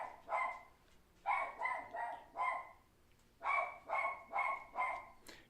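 A dog barks repeatedly in bursts nearby, several quick barks in two clusters with a short pause between, heard alone without talk.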